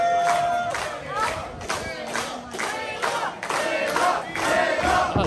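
A crowd at a women's wrestling event cheers and chants in loud, rhythmic bursts, the shouts rising and falling in pulses with scattered clapping and a commentator speaking underneath.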